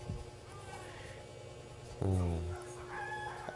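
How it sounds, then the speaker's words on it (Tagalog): A rooster crows once loudly at close range in a farmyard, with faint background clucking from chickens and low ambient noise before and after. "Video ko sa mga manok."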